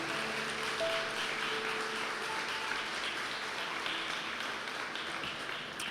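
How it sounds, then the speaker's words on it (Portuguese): A church congregation applauding during a worship service, a steady wash of clapping heard at a moderate distance, even and sustained with no talk over it. "Você pode aplaudir esse Deus maravilhoso?"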